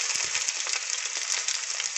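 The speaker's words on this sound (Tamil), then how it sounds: "இப்போ இதை நல்லா வதக்கிடலாம்." Crushed garlic with dried red chillies, mustard seeds and urad dal sizzles steadily in a hot pan for spinach poriyal, a dense bright crackle with small pops and no talking.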